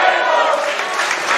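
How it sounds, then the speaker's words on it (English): A huge wrestling-match crowd roars loudly and continuously, a dense, deafening wash of voices that holds steady throughout. "Deafening roar from the crowd."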